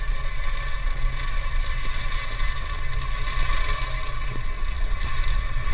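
Falcon 9 booster firing all nine Merlin engines during the launch of NASA's Sentinel-6B ocean satellite, a steady, dense roar with strong low rumble and crackle that holds at constant loudness throughout.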